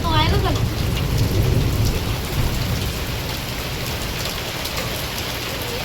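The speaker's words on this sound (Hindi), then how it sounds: "देख रहे हो ना आप कैसे बिजली कड़क रही है।" Steady heavy rain pours down while low thunder rumbles through the first couple of seconds, with a brief bird-like chirp near the start.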